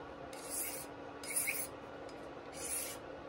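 A sharp blade scrapes thin shavings for 15th-century-style crossbow inlay, three quiet strokes spaced about a second apart, each a short close rasp.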